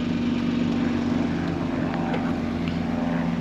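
A Kia Stinger GT engine droning with a steady, loud, low rumble that holds constant throughout, with no voices over it.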